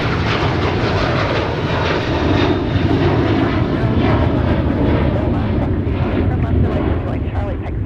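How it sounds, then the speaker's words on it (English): A United airliner roars down the runway on departure at Minneapolis–Saint Paul airport on a windy day, a loud, sustained jet engine rush that holds steady throughout, with radio chatter faintly mixed in. "So United is now departing."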